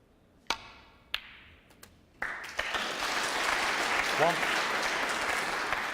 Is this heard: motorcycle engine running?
no